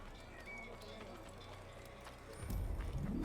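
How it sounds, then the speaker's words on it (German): Horse hooves clip-clopping in the game Assassin's Creed as a rider mounts up, steady hoofbeats under faint background ambience, growing louder and heavier toward the end. "So, auf Pferd aufsitzen."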